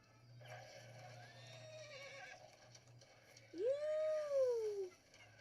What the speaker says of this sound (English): I should probably get on my horse.